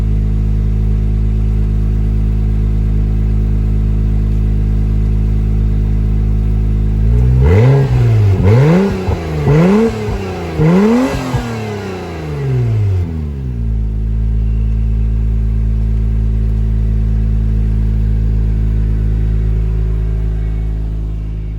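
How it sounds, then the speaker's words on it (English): A 2022 Acura NSX idles steadily, then its exhaust barks through four or five sharp revs in quick succession before settling back to a smooth, loud idle. "give it a couple of revs so you guys can hear the exhaust"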